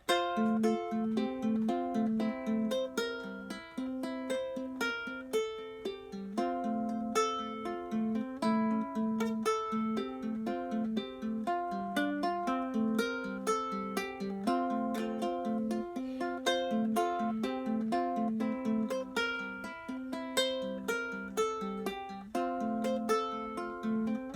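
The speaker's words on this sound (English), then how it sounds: "But what we want to get to is this picking." Acoustic guitar picked in a steady, repeating pattern of bright plucked notes over a low bass line, played alone without any voices.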